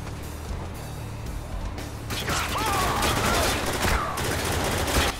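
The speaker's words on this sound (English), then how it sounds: "Is that a machine gun?" Gunfire in the video game Spec Ops The Line during co-op play: a rapid machine-gun burst that starts about two seconds in and keeps going, loud and dense, with sharp spikes toward the end.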